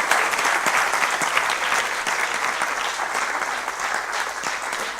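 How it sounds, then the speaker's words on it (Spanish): Steady, full applause from a forum audience in a hall, sustained clapping at even loudness throughout, with no speech over it. "yo creo que lo podemos despedir con un aplauso"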